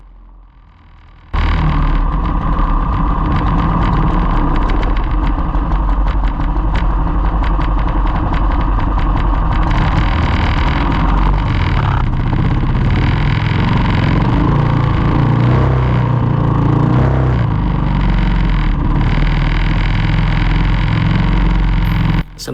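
A bancarera race boat engine starts and runs at a loud, steady roar for about twenty seconds, then cuts off abruptly.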